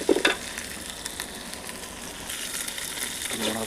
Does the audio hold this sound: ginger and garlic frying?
yes